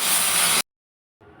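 A pressure cooker whistle releases a loud burst of hissing steam with a high whistling edge while cooking dal and vegetables for sambar, cutting off abruptly, followed after a brief silence by a fainter hiss.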